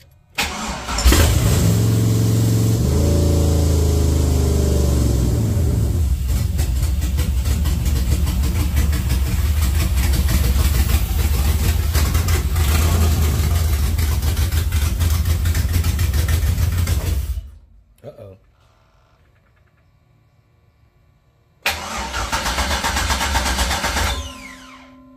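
A 1982 Chevrolet Monte Carlo engine cranks briefly, fires and runs loud and steady for about fifteen seconds before cutting off, then restarts and runs again near the end.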